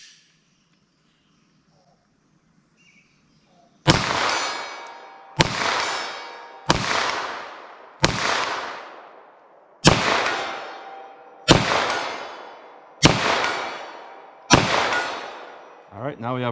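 Eight sharp 9mm+P gunshots from Winchester Defender ammunition fired through a windshield crack out at a steady, slightly uneven pace, each loud report echoing and fading before the next, after a few quiet seconds with faint sounds.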